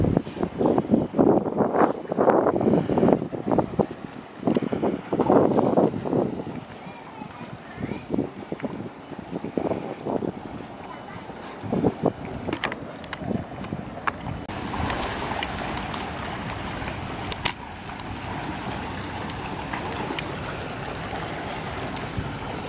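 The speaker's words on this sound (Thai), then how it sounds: "มานั่งดูสายน้ำดูลมพัดดูเรือวิ่งเนาะ" Wind blows across a riverside near a temple while boats pass along the water, a steady rushing wash with rumbling engine passes, someone talking over it through the first half.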